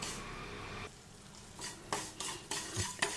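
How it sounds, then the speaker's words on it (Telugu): Semolina roasting in a pan while being stirred, with soft scraping strokes and light clinks of a spoon against metal over a faint sizzle, close and quiet, no talking. "రవ్వ మాడకుండా దోరగా వేయించుకోవాలి."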